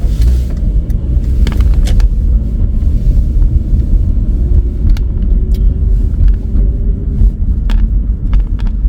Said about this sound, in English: We'll let that car go.